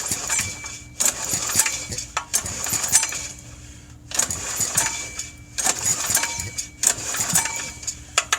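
A Kohler 208cc mini bike engine is cranked repeatedly in bursts of about a second each, with a mechanical whirring rasp and clicking that stop between pulls, close and loud, never catching.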